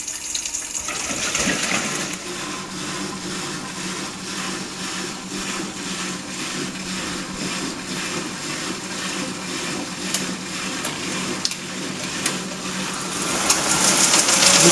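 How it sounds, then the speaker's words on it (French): A Brandt 532 Super washing machine draws in water to top up its rinse level, a steady broadband rush of flowing water with faint mechanical hum, continuous and even throughout, rising slightly near the end. "on voit que la machine complète son niveau de rinçage."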